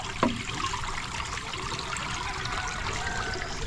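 Irrigation water pours and rushes strongly in a steady, loud, close flow, with a brief knock near the start.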